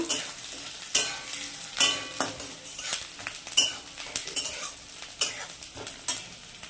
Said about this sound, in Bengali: এইবার একটু ভালো করে নাড়া দেব